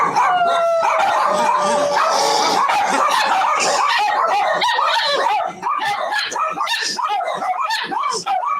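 A pet dog howls and yips excitedly with whimpering cries in a continuous, close, loud stretch, while a person speaks over it.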